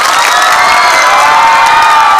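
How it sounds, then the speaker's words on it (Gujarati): A school audience at a magic show at KK High School, Savar Kundla, claps and cheers in a loud, dense, continuous roar of applause, shouts and whoops close at hand. "જોરદાર તાળી બજાવો યાર."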